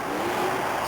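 A Bronco monster truck at a 1991 USHRA Speedworld show in Tampa, Florida, rounds a turn, its big engine droning loud and steady throughout a brief, unbroken burst.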